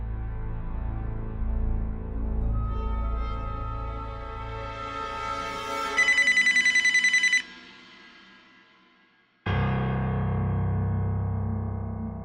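Telephone ringing in a bright electronic tone, loud and close, with a buzzy burst partway through, a brief pause and then the ring resuming.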